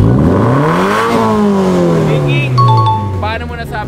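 A car engine revs, its pitch swinging up and then sliding down in a long, loud, close sweep. Near the end people talk briefly over it.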